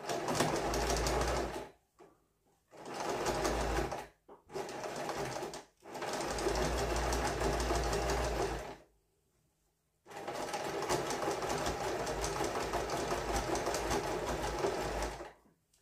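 A sewing machine stitches slowly about 2-3 mm from the outer fabric edge, running in several close, loud bursts of varying length with short pauses between them, ending in one long continuous run.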